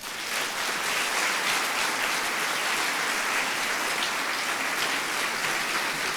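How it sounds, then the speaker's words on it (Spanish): An audience at a lecture applauds a doctor with sustained, even clapping from many hands, a broad hiss-like patter that stays level for about six seconds at moderate volume with no voices on top. "les pido por favor un aplauso para el doctor"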